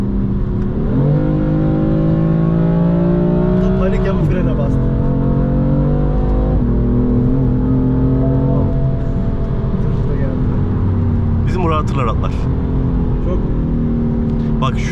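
A BMW M4 with a 3.0 turbo engine and DCT gearbox revs hard and accelerates, its loud engine note climbing and falling through shifts, with a voice talking over it from inside the car.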